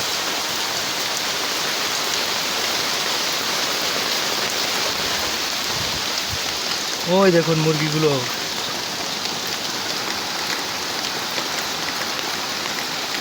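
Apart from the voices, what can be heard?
heavy rain falling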